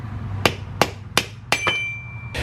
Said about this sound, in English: I'm going to use a screwdriver, just stick it down the bolt hole and tap it.